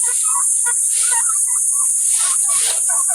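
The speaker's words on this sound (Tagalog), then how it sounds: "Ayan yung ating mga pabo." Several turkeys cluck and chirp in short bursts close by, a busy overlapping flock with a steady high hiss in the background.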